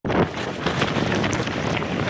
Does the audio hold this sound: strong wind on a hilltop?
yes